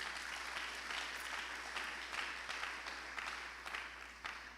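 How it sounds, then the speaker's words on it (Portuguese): A church congregation applauding during a sermon, a steady, dense patter of many hands clapping at moderate distance, slowly fading toward the end. "Aplauda o Senhor em nome de Jesus"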